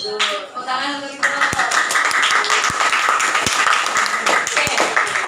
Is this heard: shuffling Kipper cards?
no